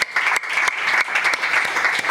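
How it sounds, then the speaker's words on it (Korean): A church congregation claps together in celebration, a dense, steady burst of applause that fills the room from start to finish with no talking. "박수로 다시 한번 축하드립니다"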